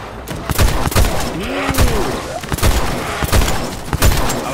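Loud, rapid gunfire from Dead Island 2 rattles in repeated bursts, close and dense, with low thuds and a muffled voice weaving through the shots.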